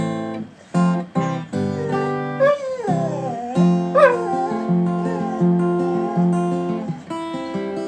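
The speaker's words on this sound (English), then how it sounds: "That dog has a beautiful voice." A dog howls and yips in long, wavering drawn-out notes with short barks between, loud and close, alone without speech.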